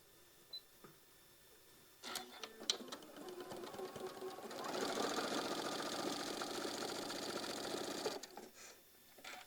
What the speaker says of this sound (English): Just line up our edges and sew our 1/4 of an inch all the way down.